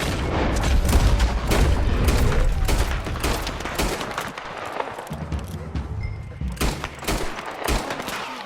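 Dense Red Dead Redemption 2 gunfight, with rapid overlapping gunshots and heavy booms crackling nonstop at close range, the volley thinning briefly midway before more sharp shots ring out.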